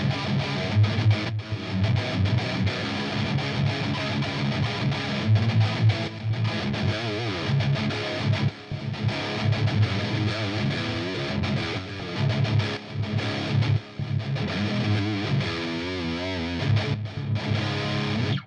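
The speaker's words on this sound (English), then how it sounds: "Too much distortion just muddies your tone" A heavily distorted electric guitar plays a thick, saturated wall of sound, loud and continuous with dense low-end chords throughout.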